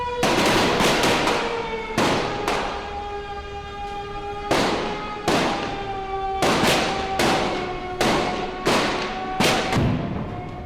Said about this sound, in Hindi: पूरा संसद भवन गोलियों की तड़तड़ाहट से गूंज उठा।